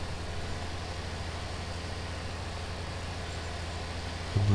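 Case IH Magnum 8950 tractor engine idling in Farming Simulator, a steady low rumble holding evenly throughout, fairly quiet with no talk, with a brief louder bump at the very end.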